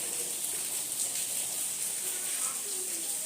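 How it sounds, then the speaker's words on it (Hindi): Rain falling outside a home, a steady, even hiss of drops with no breaks, heard close and fairly loud without any voices. "आपको बारिश की आवाज़ आ रही होगी"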